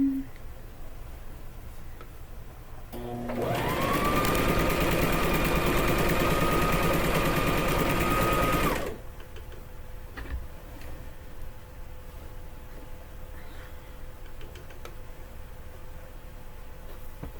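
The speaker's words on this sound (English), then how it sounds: "now I'm going to wind up having to put a bobbin" A sewing machine stitches a quillow in one steady, continuous whirring run of about five seconds, fairly loud and alone, then stops and the room falls quiet.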